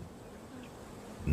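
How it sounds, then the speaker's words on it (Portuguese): Bees buzzing, a steady, moderately faint insect drone heard alone with no talk, ending in a sudden low thump. "E então, surgiram as abelhas"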